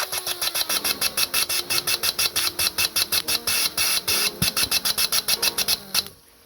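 Fuel pump running on a GM 5.3 engine setup while the injectors spray, a rapid, evenly spaced train of sharp clicking pulses over a steady hum for about six seconds, then stopping abruptly.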